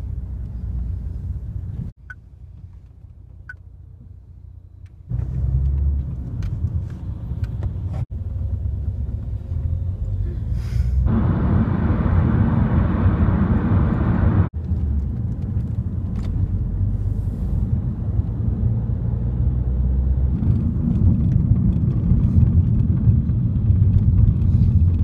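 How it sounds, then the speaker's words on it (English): Ambience at Manchester Airport, a steady low rumble of engines and machinery that shifts in level as the scene changes, with a louder broadband roar in the middle and no talking. "Manchester Airport"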